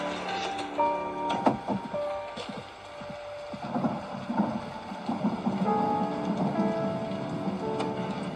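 Steady rain falling outside in the horror game Slendrina, a constant patter and hiss with scattered tonal game sounds over it, moderately loud and without speech.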